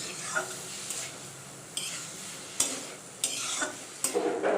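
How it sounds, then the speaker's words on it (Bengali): Maggi noodles frying and being stirred in a pan, with a steady sizzle broken by repeated scraping stirs at roughly one-second intervals, close up, with no talking. "ভালো করে ভাজছি ভাজা ভাজা হলে তারপরে ম্যাগিটা দিয়ে দিলাম"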